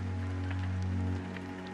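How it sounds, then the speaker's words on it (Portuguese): Rain from the survival video game Day R Survival patters steadily over a low, constant game hum and drone, brief and fairly quiet with no speech. "E a chuva, hein, cara?"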